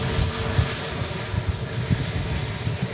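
An EasyJet airliner arriving from Paris approaches to land in a strong crosswind, its engines a low steady rumble mixed with gusty wind buffeting, fairly distant and without speech.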